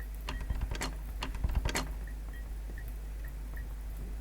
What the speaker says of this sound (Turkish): Damlama sesi geliyor ama.